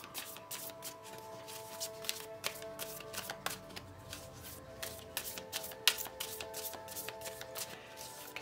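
Tarot cards are shuffled by hand in a quiet room, a continuous run of soft riffling and crisp snapping taps, close and gentle, with no voice.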